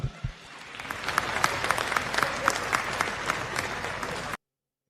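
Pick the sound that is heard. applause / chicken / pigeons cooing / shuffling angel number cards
applause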